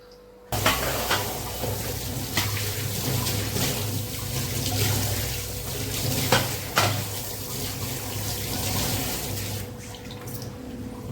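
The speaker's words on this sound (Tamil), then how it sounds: "தண்ணி நல்லா கொதிக்கிட்டும்." Water bubbles and churns at a steady rolling boil, a continuous close hiss with occasional louder pops and no talking.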